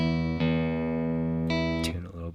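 Electric guitar strings are plucked one at a time during tuning, each note ringing out with sustained, bright harmonics before the next pluck, several in quick succession.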